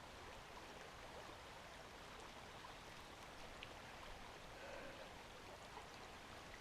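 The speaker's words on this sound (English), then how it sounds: "the sound of a creek bubbling by" A creek bubbling along in a steady, continuous wash of water that sounds close and fairly quiet, with no talking over it.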